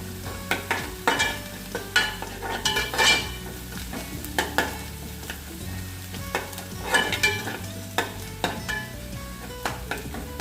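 Onion and garlic sautéing in a pan for Arabian chicken kabsa, a steady sizzle broken by repeated sharp scrapes and clinks of a spoon stirring against the pan, close and fairly loud, no voices.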